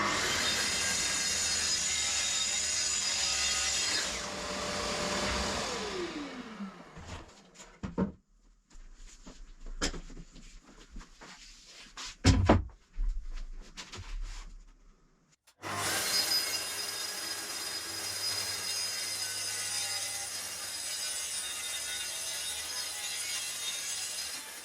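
Saw cutting maple face plywood in a home workshop: a steady rasping cut for several seconds, then a stretch of scattered knocks and handling clatter, then sawing resumes loud and continuous to the end.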